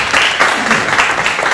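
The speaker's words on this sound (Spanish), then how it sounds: "date un fuerte aplauso a Dios" A church congregation claps loudly together, a dense continuous round of applause with a slightly pulsing rhythm that fills the space without any voice on top.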